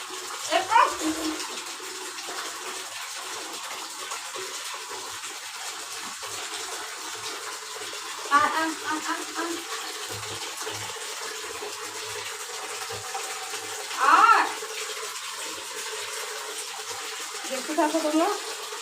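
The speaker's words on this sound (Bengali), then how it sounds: "তারপর স্নান দিচ্ছি ওকে" Water runs and splashes steadily through a bath, with brief louder splashes every few seconds. Voices, including a child's, can be heard faintly in the background.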